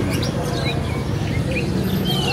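A bush lark sings at a busy bird market: thin chirps and warbled whistles ride over a steady wash of crowd and cage noise and other birds.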